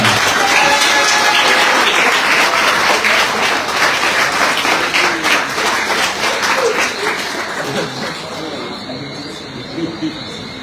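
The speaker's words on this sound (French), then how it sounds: "sous vos applaudissements" A loud crowd applauds as a rider is introduced at a cycling tour presentation in Guadeloupe, with dense clapping at first that thins and fades toward the end, along with a few faint voices.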